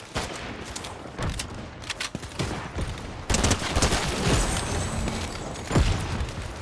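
Submachine gun fire in Fortnite comes in rapid bursts of sharp cracks, some near and loud, others more distant, with a dense flurry of shots in the second half.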